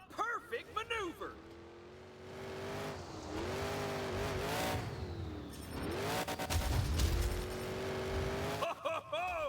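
Monster truck engine in the Monster Jam Showdown video game, revving and rising and falling in pitch through several surges, with a heavy low rumble near the end and game sound effects around it.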